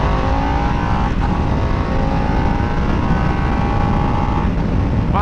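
A Harley-Davidson Nightster motorcycle accelerating hard in sport mode, its engine note rising steadily and loud throughout with a brief dip near the start, heard up close without talk.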